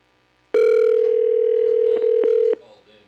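A telephone dial tone on a call-in line for a county commissioners' live-streamed meeting, a single loud steady tone lasting about two seconds with slight wavers, then cut off abruptly, leaving faint room noise.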